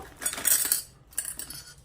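Metal hardware for a Tomei Expreme Ti titanium catback exhaust on a 2017 STI being handled, a short run of light jingling clinks and rattles in two brief bursts, close and fairly quiet with no talking.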